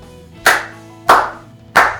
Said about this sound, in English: If I clap, you can hear the strong beats